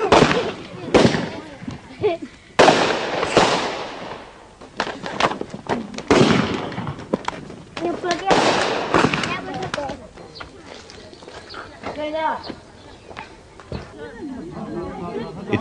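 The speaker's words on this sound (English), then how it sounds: "For the men, it's a good excuse to let off some fireworks." Firecrackers let off by men at a village celebration in China pop and bang repeatedly, loud and near, in irregular bursts and crackling rattles over a crowd chattering in the background.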